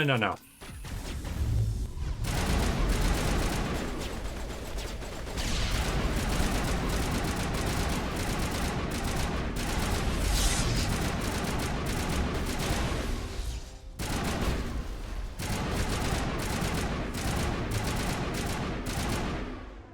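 Sustained gunfire from a Mass Effect battle, dense overlapping shots and blasts roaring almost nonstop with a brief lull, loud and close, with talk buried underneath.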